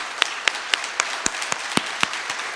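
Applause at a Mississauga mayoral debate: a steady patter of audience clapping with a few sharp, close handclaps standing out at a regular pace over the crowd.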